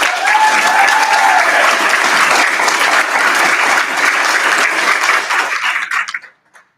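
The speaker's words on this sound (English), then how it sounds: "So please, round of applause, apartments.com." A conference audience at the 2022 SWR Managers Conference breaks into loud, sustained applause as the apartments.com presenters are invited up. The dense clapping holds steady for about six seconds, then quickly thins out and stops.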